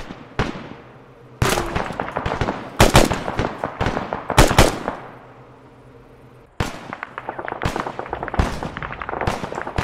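A gunfire barrage in the military game Arma 3 comes as loud, rapid bursts of shots, separated by short lulls, with sharp repeated cracks dominating the scene.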